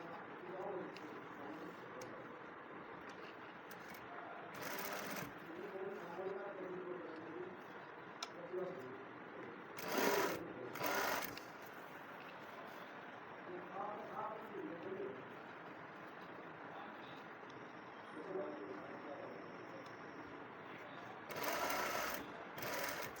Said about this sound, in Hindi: यहाँ से बराबर करते हुए सिलाई लगाना शुरू करेंगे।